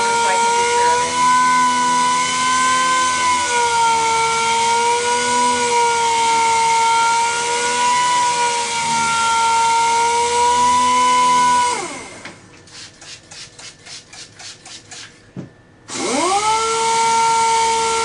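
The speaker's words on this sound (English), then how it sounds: "I'm just going to sand with this a little bit longer so I can be sure of it." A power sander runs loud and steady with a whining hum for about twelve seconds, winds down into a sputtering stop-start patch, then spins back up to full speed, heard up close.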